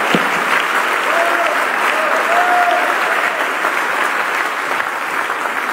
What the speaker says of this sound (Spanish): Dele un fuerte aplauso al Rey de Reyes y Señor de Señores.